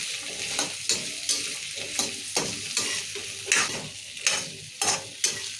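Potatoes fry in oil in a pan, a close, constant sizzle broken by regular scraping stirs about twice a second, each stir bringing a sharper burst of crackle, with no talking.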